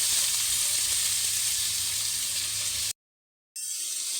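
Chopped onions frying in a pan, a continuous bright sizzle close up that cuts out briefly to silence and then resumes more softly.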